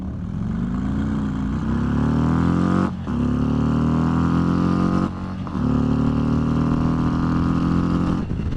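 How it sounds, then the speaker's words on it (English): A 2022 Harley-Davidson Road Glide ST bagger revs and pulls away from a stop sign, its loud engine rising in pitch through several gears with brief dips at each shift, close and steady. "It is more fun revving this thing out than it is revving the Street Glide out."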